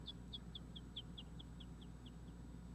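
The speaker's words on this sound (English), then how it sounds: "There's bird chirping in my ears." Birds chirp in a calm setting, a faint string of about a dozen short, evenly spaced high chirps over a low steady background hum, with no one talking.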